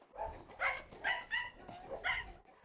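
A Doberman barks repeatedly, four or five sharp close barks in an irregular rhythm, with no talking.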